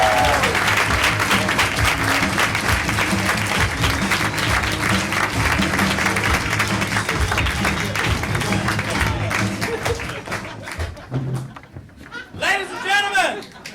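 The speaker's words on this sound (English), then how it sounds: "let's just clap and get them back in here" Audience applause and cheering at a live improv comedy show, a dense sustained wash of clapping that thins out near the end as a voice speaks over it.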